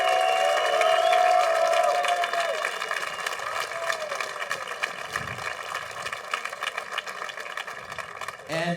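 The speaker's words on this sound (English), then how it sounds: "So let's give Lucaso another big round of applause for all his effort and his big heart for freestyle." At a freestyle football competition, an audience claps and cheers over a steady music track, the applause loud at first and then thinning out as the crowd noise fades, with a short shout near the end.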